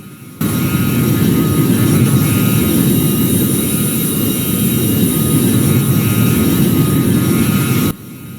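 A steady, loud jet engine roar from a Cessna Citation II in a video game holds constant throughout, beginning and ending abruptly, with no voices.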